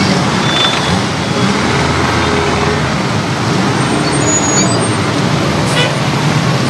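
Steady, loud traffic on a rough road in Douala, Cameroon, with buses, cars and trucks straining to accelerate. The rumble is dense and continuous, with a faint horn toot and indistinct voices in the background.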